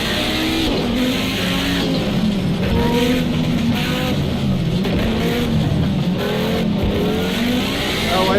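Group B rally cars, Ford RS200s and a pair of Renaults, race in a video game, engines roaring loud and continuous as they rev and accelerate together, with tires skidding, no talk.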